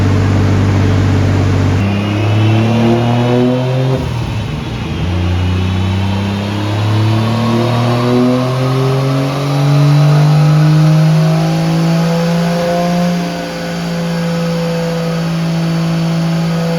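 A stock Toyota 1JZ-GTE VVTi engine revs hard on a dyno, climbing steadily through a long loud pull with rising harmonic tones after a brief dip, up close and alone.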